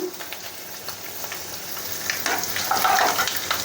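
Chana dal and dried red chillies fry in sesame oil for Guntur gongura pachadi, giving a steady close sizzle with small crackles that swell louder near the end.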